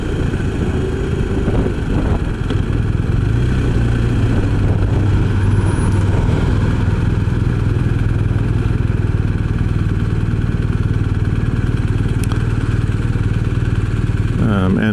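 A BMW R 1250 RS motorcycle rides through Austin, Texas, its steady engine roar and wind noise loud and continuous throughout, with gear shifts blending into the constant drone.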